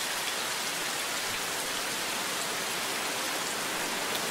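Heavy rain pours in the video game Life Is Hard, a loud, dense, unbroken hiss filling the scene with no other sounds standing out.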